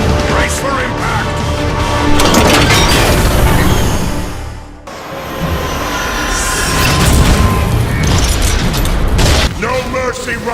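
Crash impact and explosions in a Transformers Cybertron game cutscene, loud continuous rumbling and booming with a brief drop midway before the roar resumes, voices shouting over it.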